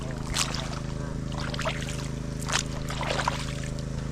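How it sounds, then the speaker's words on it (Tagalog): A machine engine at the far end of a tomato garden drones steadily with a low, even hum, with faint rustling and splashing sounds scattered over it. "Ayan yung makina sa dulo."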